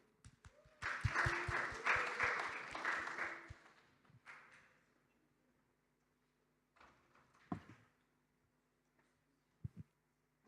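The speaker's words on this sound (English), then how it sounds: "Please give a round of applause for Vanishree" Brief applause from a conference audience after a speaker on cryptography is introduced, a burst of clapping lasting about three seconds and fading, followed by scattered knocks and thumps in a quiet room.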